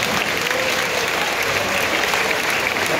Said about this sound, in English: So, round of applause for Eoin.